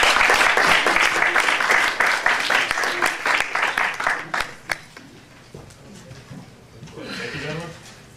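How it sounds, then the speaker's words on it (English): A student presidential debate audience claps steadily, loud and dense at first, then thins out into scattered claps before a voice starts speaking. "Let's give the candidates a round of applause."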